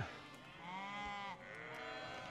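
Sheep bleat on a farm at night, one clear drawn-out wavering bleat near the middle, with faint softer animal sounds around it; the level is low overall.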